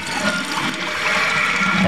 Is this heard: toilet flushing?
yes